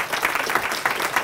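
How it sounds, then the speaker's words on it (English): Brief burst of crowd applause at an outdoor veterans memorial ceremony, many hands clapping together, moderately loud and dense, with no voices heard. "Round of applause for Sam."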